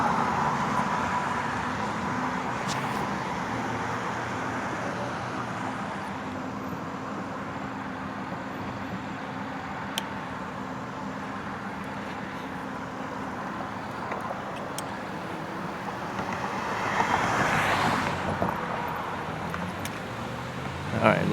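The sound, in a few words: cars driving past on road during e-bike ride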